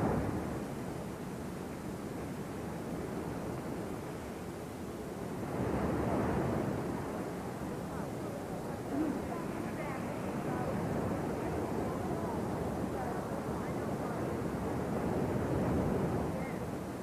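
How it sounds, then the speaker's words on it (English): Ocean surf breaking at Sunset Beach on Oahu's North Shore during a surfing contest, a steady, fairly faint broadband roar of waves and wind that swells slightly around the middle and again near the end. "the surf continues to hold here at Sunset"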